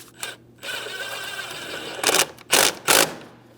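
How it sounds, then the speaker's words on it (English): Ratcheting and clicking of a hand tool tightening an 8mm-head hose clamp toward the air filter housing on a 2007-2014 Ford Edge 3.5L V6 engine, several short close mechanical bursts with brief pauses, no talk. "Tighten our 8mm headed clamp."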